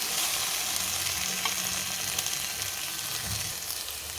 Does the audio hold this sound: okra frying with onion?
yes